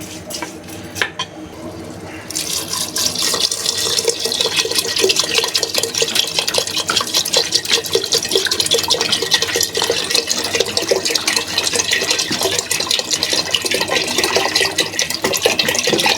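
Water poured into a pot for moth bean dal: a faint clink at first, then a loud, steady rushing stream of water filling the pot, continuous and close.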